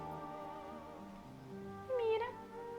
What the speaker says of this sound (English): Hold on, my cat is calling me.